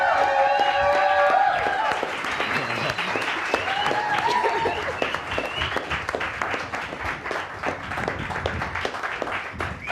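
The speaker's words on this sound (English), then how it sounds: "a round of applause for our champions." Crowd applause for champions in the fantasy setting of Throsha, dense clapping mixed with crowd noise and cheering, starting under a fading voice and then continuing on its own at a steady level.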